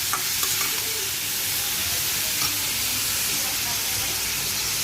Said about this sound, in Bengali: ভাজা ভাজা করে নেব তো এইভাবে করলা ভাজিটা করবো